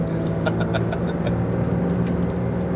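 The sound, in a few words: Daihatsu Xenia 1000 car with turbo accelerating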